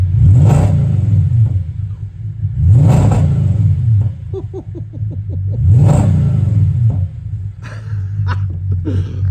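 An Audi S5 engine revs up three times in loud, rising bursts over a steady rumbling idle, with a few sharp mechanical crackles between revs.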